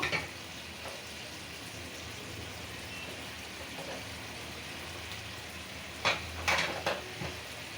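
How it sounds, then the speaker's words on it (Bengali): Potato and pabda fish curry cooking in a pan makes a quiet, steady simmering hiss, with a few sharp utensil clinks and scrapes near the end and no voices. "আলু পাত্তা মাছটা দিয়ে দিলাম"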